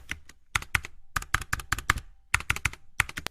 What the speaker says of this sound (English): Type the question in the provided box.